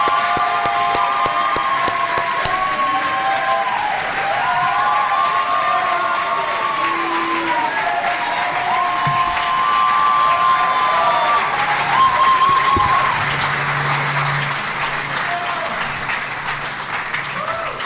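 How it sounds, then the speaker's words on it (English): A debate crowd applauds congressional runoff candidates Lee Bright and William Timmons with loud, sustained clapping and some cheering, while a voice speaks over it partway through. "let me let you applaud your candidate for Lee Bright and William Timmons"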